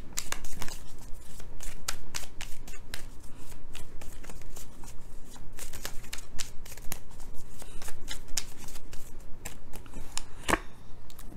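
Tarot cards are shuffled steadily, a dense run of quick papery riffles and slaps, close and continuous with no talking.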